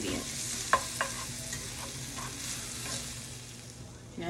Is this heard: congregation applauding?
no